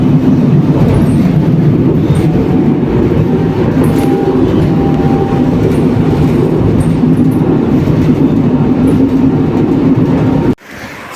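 Steady, loud rumble of a tram riding through a rainy night, continuous rail noise and rolling hum from the inside, cutting off abruptly near the end to a quieter outdoor scene.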